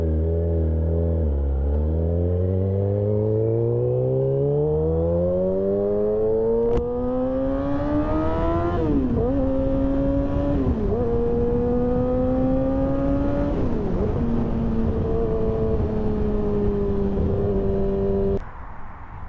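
A 2008 Yamaha R6 motorcycle with an SC Project muffler and Black Widow exhaust revs loud and close, its engine note climbing steadily and then dipping and rising again through several gear changes before it cuts off.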